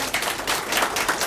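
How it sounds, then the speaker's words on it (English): A short burst of applause rises from an audience honouring young community workers. The clapping is brief, moderately loud and evenly spread, with no voices over it. "Let's give a round of applause to these young men and women who are doing amazing work"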